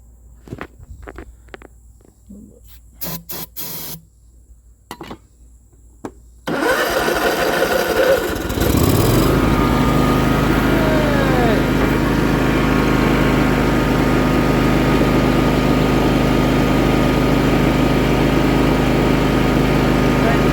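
A John Deere riding mower left sitting for two years starts with a ragged catch, then settles into a loud, steady idle that runs on without a break. Footsteps and handling noises come before it.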